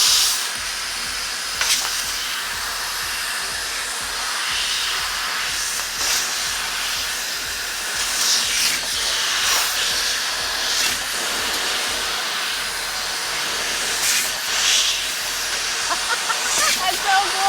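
A laser cutter slices 18 gauge sheet metal at an exhaust maker's R&D facility, producing a steady, close, broadband hiss with faint flickers that holds throughout, while voices occasionally talk in the background.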